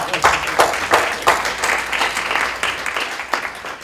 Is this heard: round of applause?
yes